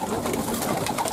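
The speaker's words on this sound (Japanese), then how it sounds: "出社口の前にはハトさんが随分集まってます" Pigeons gathered at a loft exit cooing softly and continuously in a brief close burst, with faint background noise and no talk.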